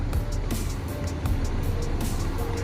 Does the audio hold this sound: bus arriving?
yes